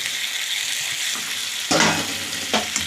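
Constant oily sizzle in a pan, broken by a heavy thud and a burst of louder frying as fried brinjal is added, then another smaller thump and crackle.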